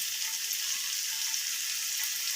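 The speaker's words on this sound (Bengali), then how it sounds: "সয়াবিনগুলোকে দিয়ে আমি এবার তেলের সাথে একটু ভেজে নেব।" Soybean chunks fry in hot oil with spices, giving a dense, even crackling sizzle that holds steady at close range throughout, with no voices over it.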